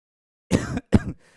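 Two quick, sharp coughs in a row, close and fairly loud, with silence before them and a short fading tail after.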